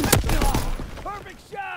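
Gunfire from the World War II shooter Call of Duty: WWII during a team deathmatch, a dense burst of rapid shots in the first second, then fading under game radio chatter and whistling effects.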